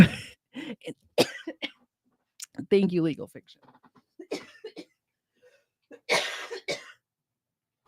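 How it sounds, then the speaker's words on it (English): A few rough coughs and throat-clearing sounds break up short stretches of nearby talking, ending with a harsh, breathy cough burst. "I just had a coughing fit and didn't get to the mute button."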